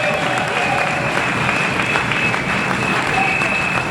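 A crowd at a Congolese trade union gathering applauds and cheers, dense and loud, holding steady throughout with mixed shouts and voices.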